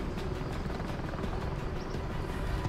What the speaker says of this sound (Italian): distruggi gli elicotteri